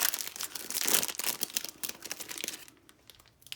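Close crinkling and rustling of plastic packaging around a fabric pack, dense and busy for a few seconds before trailing off into quieter handling.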